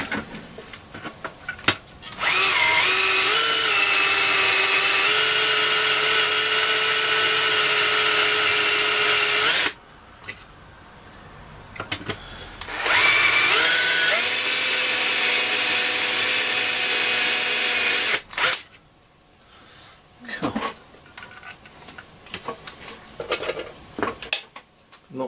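An electric drill with a 3.5mm bit whines at high speed in two long bursts, winding down between them, followed by clicks and handling noises, while repairing a Roberts R747 radio tuning capacitor.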